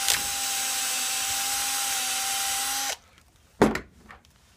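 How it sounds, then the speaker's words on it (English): A power drill with a 13/64 bit bores a hole for a pencil jet in a water-fed pole brush, a steady near whine for about three seconds, then stops, followed by a short clunk of handling. "Drill your hole."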